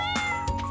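A short in-game cat meow from Stardew Valley, a single clear mew lasting under a second over faint game music.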